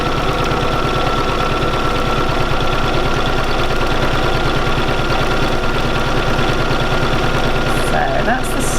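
A Bernina 475QE sewing machine runs a free-motion straight stitch in a steady, loud, fast mechanical hum with a rapid even needle rhythm, continuous for the whole stretch.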